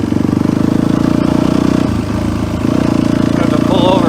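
Yamaha YZ426 dirt bike engine running steadily and loudly on a cold west desert ride after carburetor modifications, a constant low throb with a slight dip midway, with a voice speaking over it.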